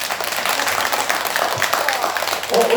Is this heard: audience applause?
yes